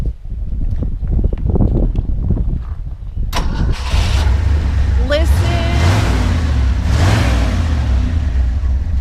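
A 1968 Ford F250 bumpside pickup with a swapped-in 360 V8 cranks, catches and fires, then idles and revs loudly up close with wind buffeting; a voice speaks briefly before the start.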